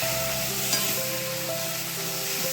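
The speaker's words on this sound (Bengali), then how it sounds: "এটা এবারে এই মটরটা ভালো করে ভেজে নিতে হবে।" Green peas frying with spices in a pan, a steady close sizzle with faint stirring scrapes throughout and no talk.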